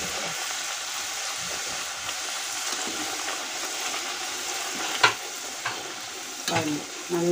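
Carrot poori frying in hot oil, a steady bright sizzle throughout with occasional bursts of sharper crackling and bubbling near the end, close up with no talking.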